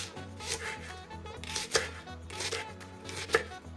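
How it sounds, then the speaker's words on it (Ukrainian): Knife chopping leek on a cutting board, a run of quick, close, crisp chops in irregular bursts over a low steady background hum, with no talk. "Нарізаємо всі овочі, що в нас є."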